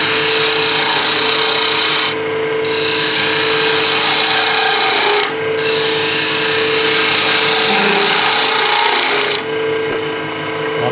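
A wood lathe spins a blank being turned into a sphere while a gouge cuts away waste wood, giving a loud, steady scraping whir that breaks off briefly twice as the tool lifts, with no talking.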